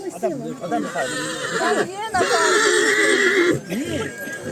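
A stallion neighs loudly and close by at a horse show in the mountains, a shrill whinny rising and falling, while a person talks at the same time.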